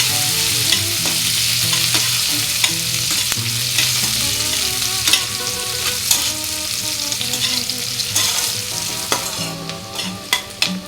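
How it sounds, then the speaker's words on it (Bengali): Two small onions fry in a pan for a sour mourola fish dish, giving a steady loud sizzle with intermittent scraping and stirring clicks throughout. "একটুখানি ভালো করে ভেজে ছোট দুটো পেঁয়াজ"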